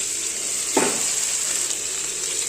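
A ground paste of ginger, cumin and coriander fries in a pan for a vegetarian cabbage, potato and pea dish, giving a constant loud sizzle with one brief surge as it hits the oil.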